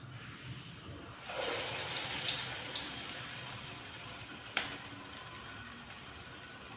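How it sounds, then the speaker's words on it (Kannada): Water splashes and trickles for a few seconds as it is poured over hands while shaping vada batter, followed by a single sharp knock and quiet dripping. "ಕೈಗೆ ನೀರು ಹಾಕಲೇಬೇಕು ಒಂದೊಂದು ಸಲ ಮಾಡುವಾಗ ಹೀಗೆ"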